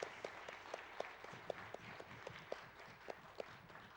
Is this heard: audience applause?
yes